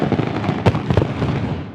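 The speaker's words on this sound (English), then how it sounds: "The early fireworks at Elizabeth Quay gave a taste of what was to come." New Year fireworks over Elizabeth Quay in Perth burst in a dense run of crackling pops and booms, with a couple of louder bangs in the middle. No voices are heard.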